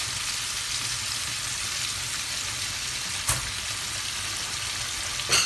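Ingredients sizzle in hot oil with a steady, dense frying hiss that carries throughout, broken by one brief knock partway through.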